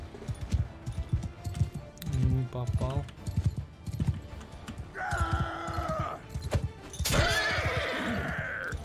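Horse clip-clop hoofbeats and whinnies in the video game Mount & Blade II, with rhythmic hooves through the clip, a neigh near the middle, and someone talking over the game sounds.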